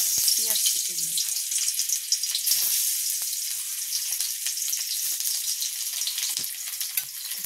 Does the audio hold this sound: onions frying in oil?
yes